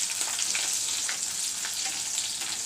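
Asafoetida and vegetables sizzle in hot oil in a pan, a close, steady crackling fry with scattered small pops, no voices.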